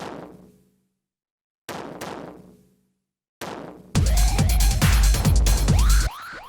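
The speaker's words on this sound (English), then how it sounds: "The last thing that we have here is this little tom" Distorted tom drum sample from industrial techno: a few booming, decaying hits with pauses, then a dense run of loud, saturated pitched-down tom strikes pounding in a steady rhythm.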